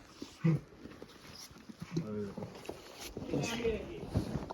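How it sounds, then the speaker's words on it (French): A dog being let out near travelers on foot, its brief, close yelps and panting scattered among people talking. "Ah, il va sortir son chien."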